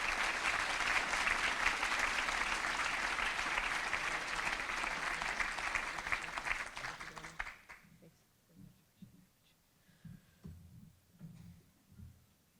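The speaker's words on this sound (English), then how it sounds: "I'd ask you to give them a round of applause for their sponsorship today" Audience applause at a public safety and community appreciation luncheon fills the room with dense clapping for several seconds, then fades out and gives way to a speaker talking.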